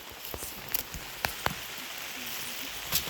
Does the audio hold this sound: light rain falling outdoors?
yes